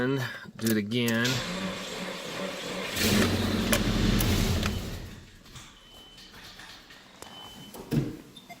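Starter motor on a 1997 Nissan truck cranking the engine sluggishly, a grinding mechanical churn that swells mid-clip and then fades, heard fairly close with some background noise and a brief vocal sound at the start.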